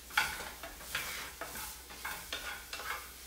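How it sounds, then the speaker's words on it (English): Vegetables sauté in bacon grease for a low-carb deconstructed pizza, heard as soft, quiet sizzling with a series of rhythmic stirring scrapes about every half second, and no talking. "I just wanted to saute those a little bit because the recipe called for it"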